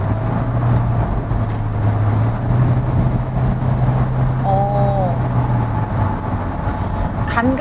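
Hyundai Venue driving and accelerating, with steady close engine and road drone from inside the cabin and a faint rising whine toward the end; no one speaks.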